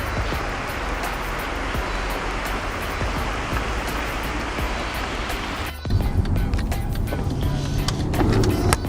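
Floodwater rushes in Caldwell, a loud, steady, broadband roar with no breaks, which turns slightly harsher and louder about two thirds of the way through.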